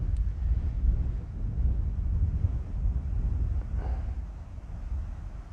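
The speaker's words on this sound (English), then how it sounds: "Trouble is the wind is blowing me around so much" Strong wind buffets a microphone out in an open field, a continuous low roaring rumble with gusts that stays loud throughout and has no talking.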